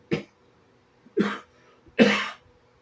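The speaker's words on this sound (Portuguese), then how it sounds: "Dá uma tossidinha aqui para dar uma aliviada na garganta" Three short coughs, each a sharp burst separated by brief pauses, close and fairly loud in an otherwise quiet space.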